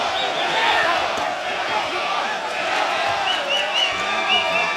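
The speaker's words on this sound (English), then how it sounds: "Mexico, Mexico is what the crowd is yelling here at the StubHub Center" A dense boxing arena crowd at the StubHub Center roars and chants "Mexico" continuously. The chanting is steady and loud, a broad wash of many voices that carries through the whole stretch, with scattered louder shouts.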